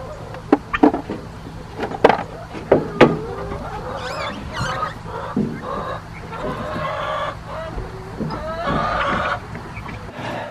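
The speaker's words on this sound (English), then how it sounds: "Looks like we have got some new chickens laying some eggs." Young laying hens cluck in short, sharp bursts early on, then settle into softer, continuous murmuring and squawks nearby, with no talking.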